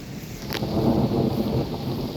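Heavy rain falls steadily on foliage and surfaces in a forest garden during a thunderstorm, with a brief sharp crack near the start over the continuous loud downpour.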